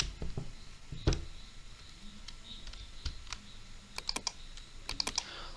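Scattered clicks of computer keys being pressed, irregular and fairly close, over a quiet background hum.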